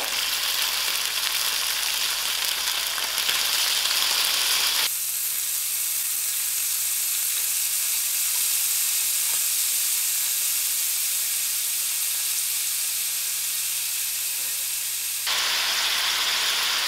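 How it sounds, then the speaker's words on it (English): Cubed green pawpaw fries in a hot pan for a curry, giving a steady loud sizzle and hiss throughout, close up with no talk. "I'm going to give this a good mix and allow it to fry for about 10 minutes"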